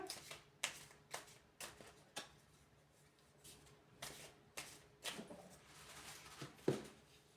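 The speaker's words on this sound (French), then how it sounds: "Alors, je mélange." Oracle cards from a mirror oracle deck being shuffled by hand in a quiet room, with a series of soft, brief riffling rustles that come in irregular bursts and stay fairly faint.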